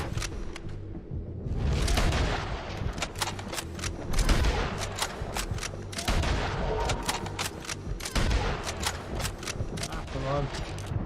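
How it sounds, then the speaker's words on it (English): Rapid gunfire and booming artillery blasts from Red Dead Redemption 2 crack repeatedly in dense bursts, loud and close, with a voice talking intermittently between the shots. "Artillery!"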